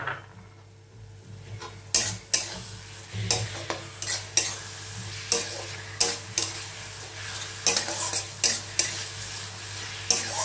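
Three large tomatoes fry in a pan for a Bengali dish, giving a soft, low sizzle beneath repeated clattering scrapes of a spoon against the metal. The stirring strokes come in an irregular rhythm, close by and fairly quiet, with no talking.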